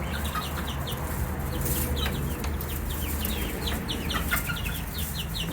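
Young chicks in a homemade brooder set in a garage keep up dense, overlapping high peeps and soft clucks, close and steady throughout, over a constant low hum.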